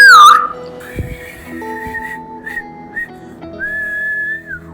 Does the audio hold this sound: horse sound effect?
no